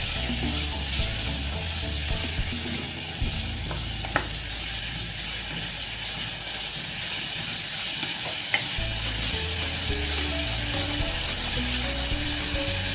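A large, finely chopped tomato sautés in a hot pan for a breakfast snack, giving a steady, close sizzle with light stirring scrapes and a few sharp clicks throughout, without any talk.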